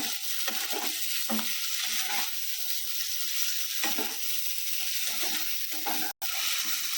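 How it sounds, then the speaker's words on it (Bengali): Tomatoes and cashews sizzle steadily in a hot pan for chicken tikka masala, with a spoon stirring and scraping through them in repeated close bursts over the constant frying hiss. "এবারে এটাকে নাড়বো যতক্ষণ না টমেটোটা গলে আসে"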